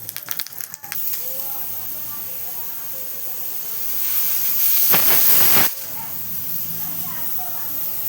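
A pressure cooker releases steam in a continuous hiss that swells into a louder whistling burst around the middle, then drops back to a softer hiss, with faint clatter at the start.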